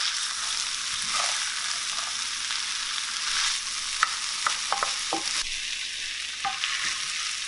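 Field corn frying in a skillet while being stirred, a steady bright sizzle broken by scattered scrapes and clicks of the utensil against the pan, close and alone with no talking.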